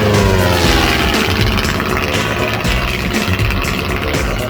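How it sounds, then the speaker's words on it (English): A stock 90 horsepower propeller airplane flies in a spring-class air race, its engine droning loud and close in a steady buzzing roar from the cockpit throughout. "flying a stock very easy 90 horsepower airplane"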